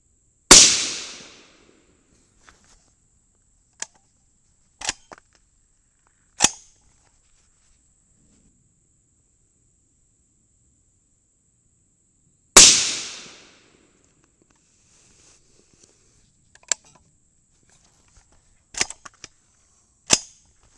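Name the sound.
22 Nosler rifle gunshots at a shooting range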